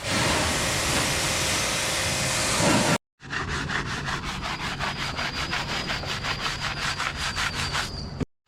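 Chain on a Bajaj Avenger 220 Cruise motorcycle being scrubbed: a steady loud rasping wash, then after a brief gap a fast rhythmic brushing stroke repeating close up for several seconds, with no talking.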